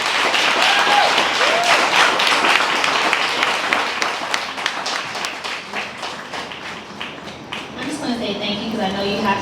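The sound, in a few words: audience applause for award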